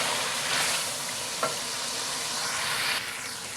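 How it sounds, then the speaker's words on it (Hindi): Chopped tomatoes and chicken fry in a karahi for an achari chicken karahi, giving a steady, close hiss of sizzling broken by a brief scrape of stirring, with no voices. "तो टमाटर हमारे गल गए हैं, 2-3 मिनट भुनाई कर लेते हैं।"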